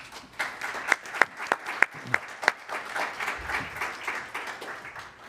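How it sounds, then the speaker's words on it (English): An audience at the 2024 Portland mayoral debate applauds Nate McCoy with a lively round of clapping, a few sharp nearby claps standing out over a steady background of many hands. "Please give Nate McCoy a round of applause."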